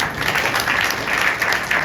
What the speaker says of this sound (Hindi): जरा एक बार ताली जाए।